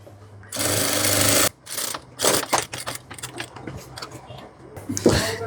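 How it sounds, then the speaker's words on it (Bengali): A sewing machine stitches a pajama pocket in a steady whirring run, then in shorter start-stop bursts, with a voice speaking in between. "এই মাথা পর্যন্ত চাপ সেলাই দিয়ে দিব"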